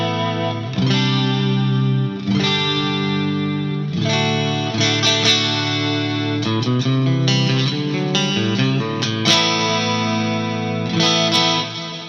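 A clean electric guitar tone from a Fractal FM9 with about 20% room sound mixed in plays chords and single-note phrases, sustained and shimmering with chorus-like modulation and a light ambient tail, continuous for around twelve seconds.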